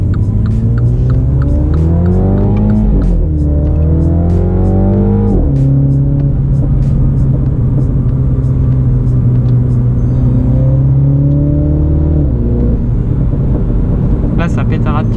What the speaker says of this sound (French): là ça pétarade carrément derrière